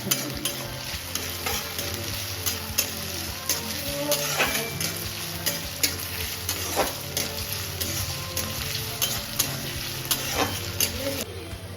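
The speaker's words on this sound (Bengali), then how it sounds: "পেঁয়াজ আদা রসুন ভালো করে মা ভেজে নিয়েছে।" Chopped onion, ginger and garlic fry in a pan for a picnic-style chicken, a continuous dense sizzle broken by frequent scraping stirs and spoon taps, close and steady throughout with no talking.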